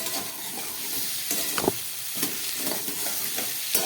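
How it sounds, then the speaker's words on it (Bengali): Cauliflower and soybean chunks with spices are stirred in a pan for a vegetarian curry, with a soft steady sizzle and several spoon scrapes and knocks against the pan, close and fairly quiet. "সয়াবিন দিয়ে আরেকটু কষাবো"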